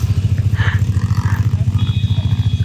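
A motorcycle engine thrums steadily and close by, with an even pulsing beat and no clear rev bursts, on a mountain touring ride between Bogor and Garut through Puncak, Cianjur and Kamojang.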